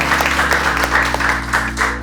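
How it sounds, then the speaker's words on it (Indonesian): Classroom applause from students in a school lesson, a steady patter of many hands clapping close by with a low hum underneath, lasting throughout. "tepuk tangan, berarti sudah mengerti."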